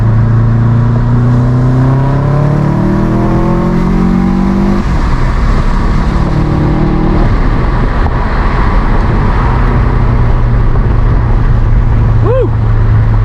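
A 2007 Subaru WRX STI engine revs while driving, its rising and falling drone steady and close inside the cabin, with road noise underneath and a brief chirp near the end.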